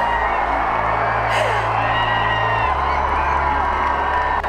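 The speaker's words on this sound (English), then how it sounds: "you can hear the roar of crowd as well as we start to get out of totality" Crowd at the Indianapolis Motor Speedway during a total solar eclipse, a broad continuous roar of distant cheering and whoops as totality ends, under a steady low hum with voices mixed in.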